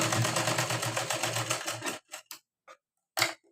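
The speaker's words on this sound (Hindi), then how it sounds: "यहाँ पे एक सिलाई करनी है हमें ताकि छूट ना जाए।" A sewing machine runs fast and steady while stitching a blouse, close and clear for about two seconds, then stops, leaving a few short clicks and knocks of handling.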